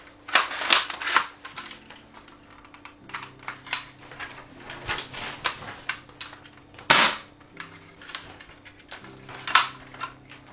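An airsoft replica pistol rated at 150 FPS fires repeatedly indoors, sharp snapping shots spaced irregularly over ten seconds, some in quick pairs, loud and close.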